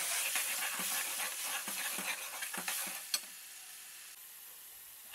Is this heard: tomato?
yes